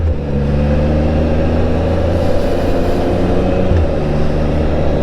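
An Amtrak passenger train rumbles past up close with a loud, steady low drone and clattering wheels, unbroken throughout.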